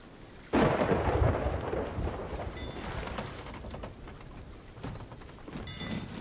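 A storm at sea in Sea of Thieves: a sudden loud thunderclap rolls into a long rumble over continuous pattering rain, with a few fainter rumbles and a later smaller crack.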